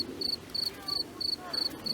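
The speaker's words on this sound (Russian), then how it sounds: "Вот так чирикает кузнечик." A grasshopper chirps at night near the Caspian Sea coast in Dagestan, repeating short bright trills in a regular rhythm of about four bursts per two seconds, close and clear over quiet ambience.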